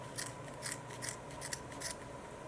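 Scissors snip repeatedly at a knitted yarn pumpkin stem, about five or six crisp, close cuts in an even rhythm against a faint steady background hum.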